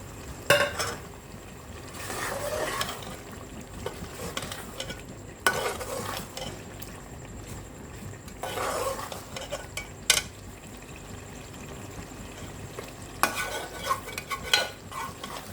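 Beef keema frying in a karahi with ground nutmeg and mace, stirred by a metal spoon: bursts of scraping and clanking against the pan over a low, steady sizzle, close by with no talk.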